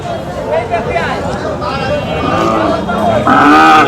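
Cattle low loudly nearby at a cattle market, a long moo swelling toward the end, amid a busy crowd of people talking in the background.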